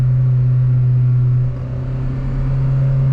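A Honda Prelude SH engine on a second-gear pull, heard from inside the car, produces a loud, steady low drone that dips briefly midway and then carries on, with no talk.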